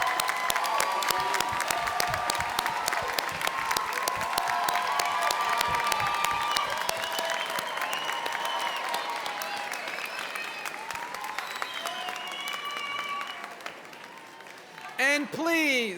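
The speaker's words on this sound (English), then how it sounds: "Please stand and give a round of applause to your families and friends." A graduation ceremony audience gives a long, dense round of applause with scattered cheers, steady and loud before slowly thinning toward the end.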